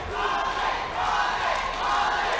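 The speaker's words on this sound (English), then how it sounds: "Crowd cheering for Harvey." An MMA crowd roars for fighter Harvey Jay in the closing seconds of a bout against Anes Palani, a loud, continuous wall of cheering voices that swells and surges throughout.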